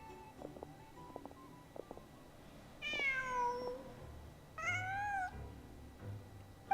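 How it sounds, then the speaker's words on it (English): A cat meows twice inside a video game, two clear drawn-out calls with quiet ambient game sound and faint clicks between them. "Huh. Just a cat."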